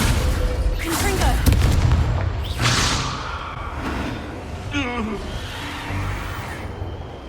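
Spell blasts from the Confringo fire curse in Hogwarts Legacy gameplay: a few loud, booming bursts with crackling tails over dense battle noise and game music, with a voice briefly heard.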